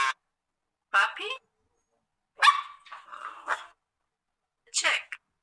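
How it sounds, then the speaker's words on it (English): A puppy barks and yips in a few close bursts, with short sharp barks and a brief whiny run in the middle, spaced by silent gaps. "Puppy?"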